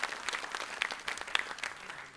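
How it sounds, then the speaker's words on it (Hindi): An audience claps warmly to welcome two performers at a tribute event, a moderate patter of many hands with distinct individual claps standing out, fairly close and without talk. "जोरदार तालियों के साथ दोनों कलाकारों का यहाँ स्वागत करते हैं"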